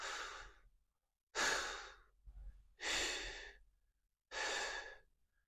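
Slow, audible exhalations during a beginner Pilates abdominal leg exercise, four breathy sighs spaced about a second apart, close and quiet with silence between them.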